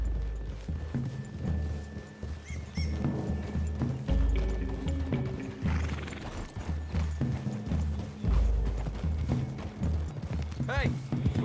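Horses trot through trees in Red Dead Redemption 2, a steady near clip-clop of hooves with creaking tack and an occasional whinny, while voices talk over the hoofbeats throughout.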